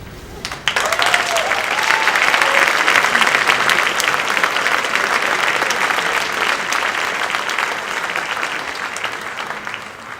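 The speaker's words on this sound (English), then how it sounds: "Please hold your applause until all students have been recognized." An audience at a high school academic excellence awards ceremony breaks into loud, sustained applause that starts abruptly and continues steadily to the end, many hands clapping at once.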